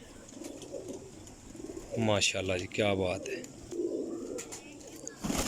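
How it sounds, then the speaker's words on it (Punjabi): Golden Mian Sahib flying pigeons coo in low, throaty murmurs through the quiet background while someone speaks briefly over them. "ਇਹ ਜਨਾਬ ਮਾਸ਼ਾਅੱਲਾ ਮੀਆਂ ਸਾਹਿਬ ਵਾਲਾ ਕਬੂਤਰ ਹੈ, ਗੋਲਡਨ ਮੀਆਂ ਸਾਹਿਬ ਆ"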